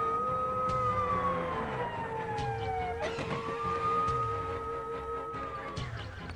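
An ambulance siren wails in a film scene, its pitch sweeping up and down in long, steady cycles, fairly loud over a faint rumble of road traffic.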